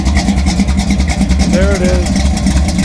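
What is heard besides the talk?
rebuilt engine of SC/Rambler car idling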